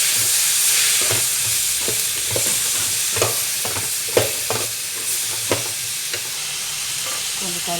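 Onion, garlic, ginger and tomatoes fry for a mutton curry, giving a steady close sizzle with repeated scraping and clacking of a spatua stirring the pan.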